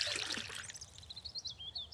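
Water poured from a bucket in the survival video game Mist Survival, a soft, brief splashing trickle that fades into a thin, faint dribble.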